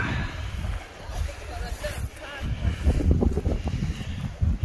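Strong wind rushes and buffets across an open mountain plateau in northern Norway, a gusty roar swelling and easing while someone talks over it, panting and tired.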